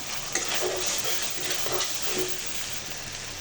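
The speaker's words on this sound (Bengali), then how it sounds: "লবণ দিয়ে ভালো করে মশলাটা ভেজে নিব" Spices and salt fry in a pan for a home-style chicken biryani, giving a steady close sizzle broken by the scrape and clatter of stirring, with no voices.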